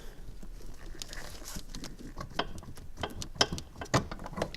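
Line wrench working the fuel filter nut on a Mitsubishi Galant VR4 in a garage, producing close, irregular metallic clicks and ratcheting taps that grow sharper toward the end, without speech.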